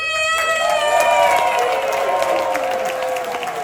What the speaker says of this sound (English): Make some noise for the one and only Peter!